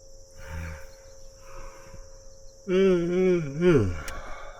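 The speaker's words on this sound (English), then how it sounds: "Bugs are already bugging outside" Crickets and other insects trill steadily outside at a campsite, a faint high continuous buzz with a few soft nearby sounds and a drawn-out humming voice toward the end.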